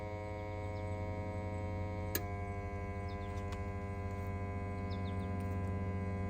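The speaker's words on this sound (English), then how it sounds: "we're gonna turn on the smoke machine" A smoke machine filled with baby oil runs during a vacuum leak test on a 2002 Chevy S10, giving a steady, even electrical hum with a single sharp click near the middle.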